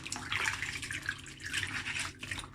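Beans are washed by hand in water for African bean cake, giving soft, close sloshing and trickling in an irregular rhythm.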